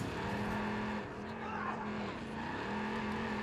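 In Watch Dogs 2, a car engine hums steadily as the vehicle drives off, its pitch dipping and rising with gear changes, while someone talks over it.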